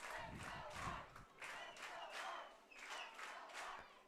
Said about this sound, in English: It's not just clapping now. Some fans are chanting,